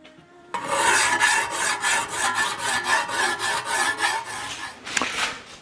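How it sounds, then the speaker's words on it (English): A hand file rasps across a custom car emblem in steady, rhythmic back-and-forth strokes, loud and close, ending with a sharper scrape. "I think a file is the answer"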